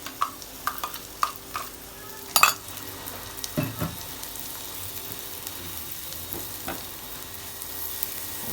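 Pieces of dorayaki fry softly in butter in a pan, broken by occasional clinks and scrapes of a utensil stirring and touching the pan.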